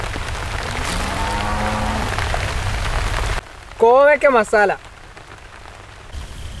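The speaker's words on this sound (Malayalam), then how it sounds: "ഇല കഴുകിയപ്പോൾ തൊട്ട് തുടങ്ങിയ മഴയാണ്" Steady rain falls outdoors during an Onam sadhya feast being served on leaves, a dense, even hiss for several seconds before it drops back and a voice briefly speaks over the quieter background.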